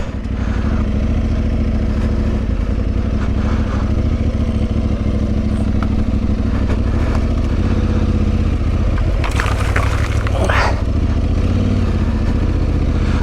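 An Aprilia Tuareg 660 motorcycle rides a muddy trail in the UK, its engine droning steadily up close for the whole stretch, with a brief clattering burst partway through.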